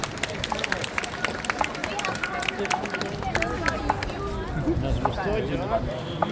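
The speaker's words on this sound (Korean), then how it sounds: "연주를 마친 치스타대에게 큰 박수 부탁드립니다" An outdoor audience applauds the band after its performance at the Deoksugung Palace royal guard changing ceremony, a steady patter of scattered clapping at moderate distance mixed with crowd chatter.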